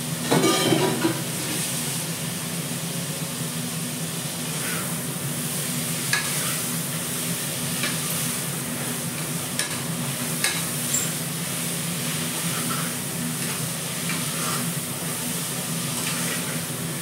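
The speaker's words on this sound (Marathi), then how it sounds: "आता टाकते मी टमाटे." Chopped tomatoes stirred into a hot pan for mixed dal, a continuous close sizzle with scattered scraping clicks from a spoon, steady and moderately loud with no voices.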